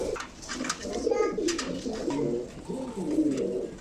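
Pigeons on a pigeon farm in Chuadanga coo continuously, their soft, throaty, rolling calls overlapping and sounding close over a few seconds.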